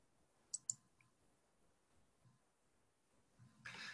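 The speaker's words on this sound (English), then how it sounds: "I'm going to click on databases up here in the red box." Two quick, faint computer mouse clicks in a quiet room, close by, followed by a soft rustle.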